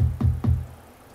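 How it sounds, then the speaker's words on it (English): Two deep, punchy bass thumps land in quick succession, then a low hum trails off into quiet. "you'll see I've added some bass beats right down here"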